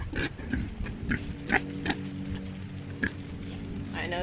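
Pigs root around in wet dirt, giving repeated short grunts and snuffles with soft wet patter between them at close range, with a steady low hum underneath.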